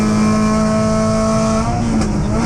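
Race cars passing at an MG event, among them a blue 1300cc Sprite with a fuel-injected BMW K100 engine head, a loud sustained high engine drone close by that shifts pitch and fades slightly as they go past.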